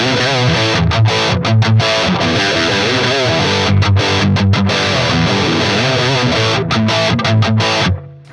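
A distorted electric guitar riff chugs loudly through a Soldano SLO-30 tube amp with the bright switch off, repeating in bursts with short palm-muted gaps, then cuts off at the end.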